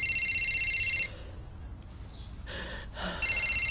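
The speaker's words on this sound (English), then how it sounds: "Oh, that phone." A telephone rings in a home sitcom scene, two bursts of a bright electronic trill with a pause and a gasp between them, loud and close.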